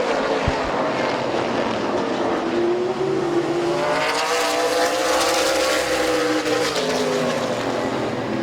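Race cars lap Midvale Speedway in a continuous roar, engines swelling and fading as they pass by at middle distance, with no voices heard.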